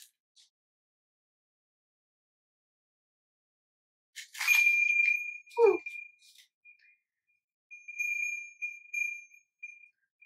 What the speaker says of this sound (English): is a wind chime.